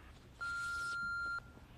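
A single answering machine beep, a steady electronic tone lasting about one second, sounds clearly and alone over faint room background.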